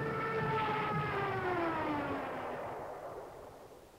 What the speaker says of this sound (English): let's continue with the bombardment